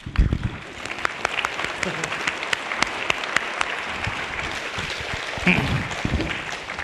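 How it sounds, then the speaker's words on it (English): An audience claps steadily and evenly after a talk, a dense, sustained round of applause that neither swells nor fades much. "Go on, you can clap."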